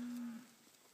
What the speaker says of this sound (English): Maine Angus, them Angus cows.